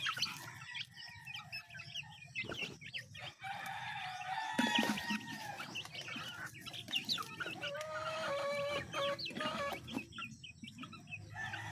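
Hungry chicks cheep busily in a flock, many thin peeps overlapping at a moderate distance, with some clucking mixed in and no talk.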